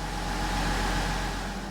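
A Chevy Duramax 1500 diesel truck engine runs in a steady, quiet, even drone, close by and with no talking.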